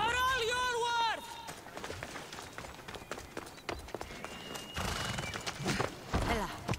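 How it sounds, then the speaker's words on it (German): Horse from the Assassin's Creed Odyssey video game trailer gives a loud whinny at the start, then galloping hooves run under music and battle sounds. "wie sie aufs Pferd gesprungen ist"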